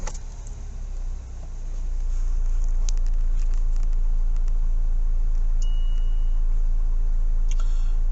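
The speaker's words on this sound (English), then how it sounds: "what about if I start the engine again?" A car engine with an ATOTO F7 WE head unit fitted starts up and settles into a steady, loud idle rumble that runs on to the end, with no one speaking.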